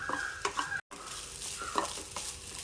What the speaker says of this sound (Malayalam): ഇതിലേക്ക് കുറച്ച് കരിവേപ്പിൻ്റെ ഇലയും കൂടി ഇട്ട് വറുത്തെടുക്കും